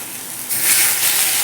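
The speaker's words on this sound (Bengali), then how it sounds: "হালকা জল দিয়ে ভালো করে মশলাটা কষিয়ে নেব।" Spice masala hitting a hot pan with fish, cumin and coriander powder sizzling, a sudden loud hissing burst that keeps up evenly.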